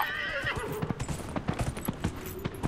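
A horse in a video game neighs loudly at the start, then its hooves clip-clop in a quick steady rhythm close by, with no talking.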